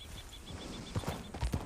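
Horse hooves clip-clop in a Red Dead video game, a few soft irregular hoof thuds near the end over a steady ambient background with a faint repeating high chirp.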